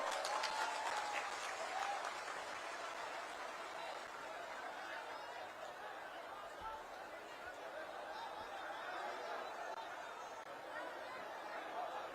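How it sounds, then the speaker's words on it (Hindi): Crowd applause at a large political rally, a dense continuous wash of clapping with faint chatter and laughter mixed in. "एक बार जोड़े करो ताली दें।"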